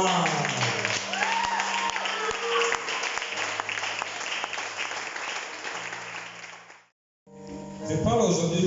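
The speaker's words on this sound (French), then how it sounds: "On acclame pour maman." An audience at a church gathering breaks into steady, sustained applause, dense and loud for several seconds before dropping away briefly and resuming, with voices mixed in.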